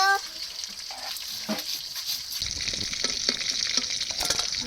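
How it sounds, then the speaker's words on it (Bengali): Loud, steady sizzling of catla fish frying in hot oil, with occasional stirring scrapes and crackles throughout. "মাছ ভাজা হয়ে গেছে মাছগুলো তুলে নেবো"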